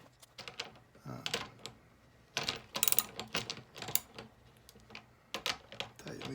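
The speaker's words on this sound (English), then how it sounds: "So I just take a little socket, put it in there, tighten it up." A small socket wrench tightens 15 mm nuts on an inexpensive base, giving quick ratcheting clicks in irregular bursts close up, with brief pauses between turns.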